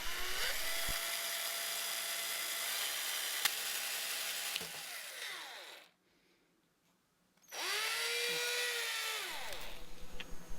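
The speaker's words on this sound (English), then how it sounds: "using the drill bit which matches the size of the straw, drill through the pill bottle cap through the very centre" A power drill bores through the centre of a plastic pill bottle cap, its motor whining steadily in two long bursts split by a short silence, with the pitch sagging as the bit bites and rising as the motor winds down.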